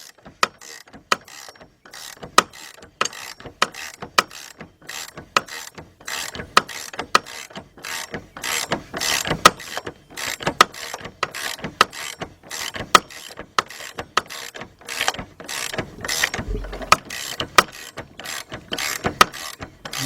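Ratchet wrench turning a bolt on a Ford Focus or Transit Connect power steering pump, giving a long run of steady, rapid, crisp mechanical clicks, loud and close with no talking.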